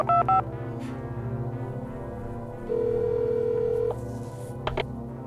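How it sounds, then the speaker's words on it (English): A telephone line in the Obsidian video game gives off a steady electronic tone over a humming background, with short beeps at the start and a louder sustained tone midway. "Hold on, another line's ringing."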